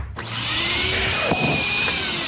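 In a comedy sketch, a vacuum cleaner runs with a steady, loud roaring whine that fills the whole stretch, broken by a couple of brief knocks and shifts in pitch.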